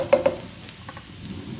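Minced ginger sautéed in hot oil in a pan, with two quick sizzling bursts near the start followed by a softer, steady low crackle of frying.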